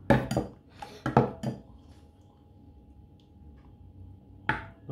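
Zucchini and onion flan batter is spread into small individual molds, with several sharp clinks and scrapes of utensils against dishes in quick clusters. These are separated by a quiet pause.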